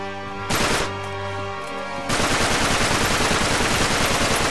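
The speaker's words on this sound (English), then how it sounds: "Sorry for shooting you, Carter" Rapid automatic gunfire from the video game Uncharted 3 rattles out in a dense, loud burst, briefly pausing after half a second before resuming as sustained firing to the end.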